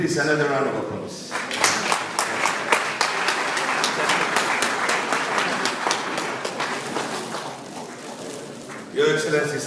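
A large crowd at the Nigerian Business & Investment Forum 2013 breaks into steady applause after a short spoken line, the dense clapping holding strong for several seconds before a voice resumes at the end.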